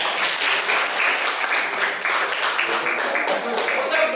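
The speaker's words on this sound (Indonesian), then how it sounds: "Tepuk tangan lagi." A class bursts into steady, fairly loud clapping, the dense applause continuing evenly throughout with no voices over it.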